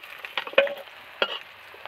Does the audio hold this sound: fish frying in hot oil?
yes